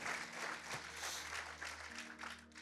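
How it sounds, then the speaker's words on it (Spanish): Congregation applause at a live church service, a dense continuous wash of clapping from the crowd with a steady low hum underneath, moderately faint. "Denle un aplauso al Señor, aleluya."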